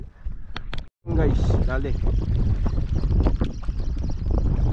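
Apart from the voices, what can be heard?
strong wind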